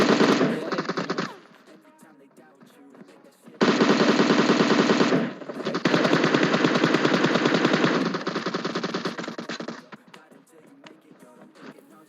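Rapid automatic fire from an M762 rifle in PUBG Mobile: a brief opening burst, a pause, then a long sustained full-auto stream lasting several seconds, loud and close.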